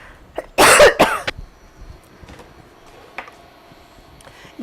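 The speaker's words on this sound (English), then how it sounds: "Excuse me, I'm going to cough." A single loud, close cough bursts out near the start, followed by faint rustling and quiet room noise, with no talking.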